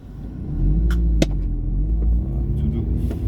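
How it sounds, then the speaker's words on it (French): A car's engine rumbles steadily in the cabin as the car pulls away in second gear, a low continuous drone with a brief knock partway through and faint talk in the background. "On démarre en secondes limite."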